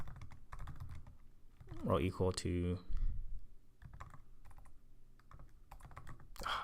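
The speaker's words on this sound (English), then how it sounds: "sorry, my typing is bad" Rapid typing on a computer keyboard while writing Java code: a steady, close stream of clicky keystrokes in quick bursts, pausing briefly as someone speaks a few words over it.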